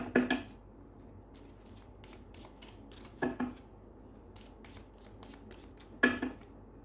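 Cards being shuffled or drawn from a deck in a quiet room during a card reading, three short crisp riffling bursts spaced a few seconds apart with faint handling noises between.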